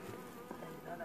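Honey bees drone in a steady, continuous buzz while an opened hive is worked during a spring inspection and its frames are swapped, with the hum close and even throughout.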